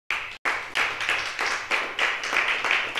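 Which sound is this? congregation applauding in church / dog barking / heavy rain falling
congregation applauding in church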